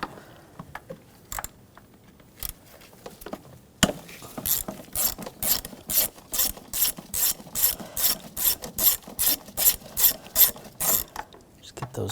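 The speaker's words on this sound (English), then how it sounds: "Now we're going to use a 10mm socket, take all the bolts out of the cover." A ratchet with a 10mm socket loosens the valve cover bolts on a 2006-2010 BMW 550i 4.8L V8, first in a few scattered clicks, then in a long run of quick, evenly spaced ratcheting strokes, close and crisp with no talking.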